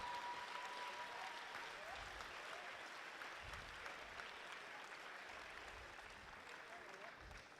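A crowd claps steadily at a FIRST LEGO League UK and Ireland final, sustained applause filling the whole stretch at an even, moderate volume.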